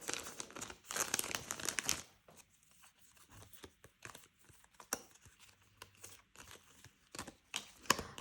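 Paper cards in an envelope-budget stock are rummaged through, with a burst of crinkling and shuffling early on, then scattered soft taps and rustles that are close and quiet.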